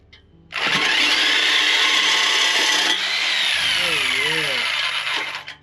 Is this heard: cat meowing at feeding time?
no